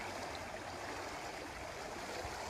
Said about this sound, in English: hear the water hitting the dock.